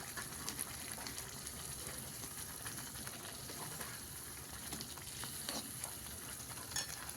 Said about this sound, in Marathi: आपण त्यामध्ये अंडे सोडून घेऊया आता थोडंसं हलवून घेऊया